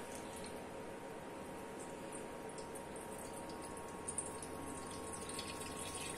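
Water running from the outlet of an RO water purifier, a faint, steady trickling flow with a low hum beneath it, quiet and continuous.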